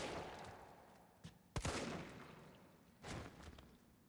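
Shotgun blasts in Resident Evil: Nemesis, one sharp loud shot followed about a second and a half later by another heavier boom, with a small pop just before the first, set against quiet game ambience.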